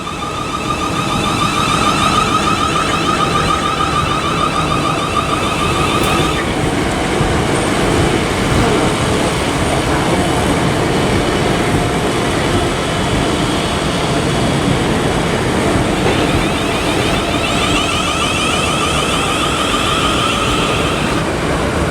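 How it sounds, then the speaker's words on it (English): South Western Railway electric unit 450011 at Reading station, working a service to London Waterloo, rumbles loudly and steadily for the whole stretch, with a sustained whine of traction motors rising and falling over the heavy rolling noise. "the 1509 South Western Railway service to London Waterloo, 450011"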